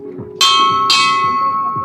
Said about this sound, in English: ringing a bell and announcing themselves to the city